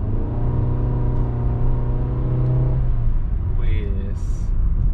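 A Honda Jazz GK5 with economy mode switched off accelerates, heard from inside the cabin as a steady engine drone and rising rev tone, with someone talking over it and a brief beep near the end.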